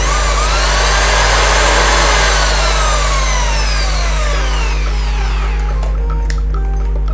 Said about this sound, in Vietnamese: đây là chức năng khoan thường nha anh